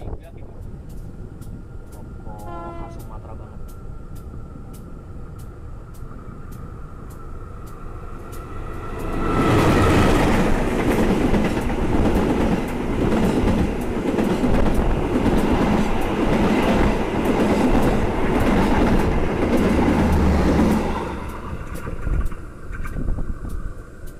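The Batavia train rushes past close by a passenger train in Indonesia, a loud roar with rhythmic rattling of wheels that builds quickly, holds, then fades; voices are audible beneath it.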